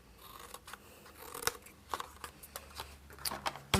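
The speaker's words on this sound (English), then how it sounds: "Now in each of the corners we need to cut up to the crease line and from the corner." Scissors snip notches into the corners of a sheet of paper for a papercraft box, a series of quiet, sharp cuts with short pauses between them in a hushed room.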